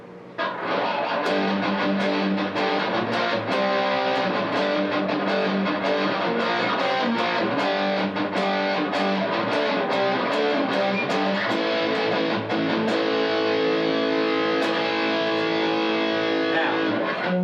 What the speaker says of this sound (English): Distortion pedal.